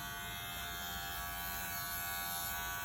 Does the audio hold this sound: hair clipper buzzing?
yes